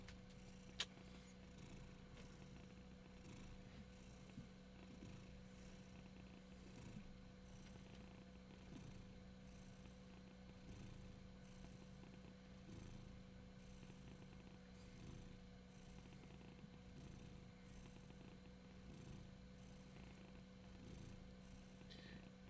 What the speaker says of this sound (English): he's purring pretty loud right now